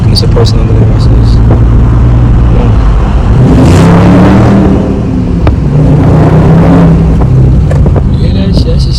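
Deep, close exhaust rumble from a 2022 widebody Dodge Charger ScatPack 392 Hemi V8 driving through an underpass, rising into a loud surge midway and easing off, with someone talking over it.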